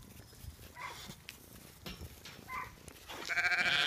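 A goat on a farm bleats in a few short, wavering cries near the end, preceded by softer, scattered farmyard noises at close range.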